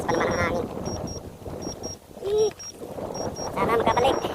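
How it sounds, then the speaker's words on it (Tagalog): Strong wind buffets the microphone outdoors while a DJI Mini 3 drone is flown far out, a rough low rumble that gusts and dips throughout, mixed with voices talking and faint high beeps. "Sobrang lakas ng hangin."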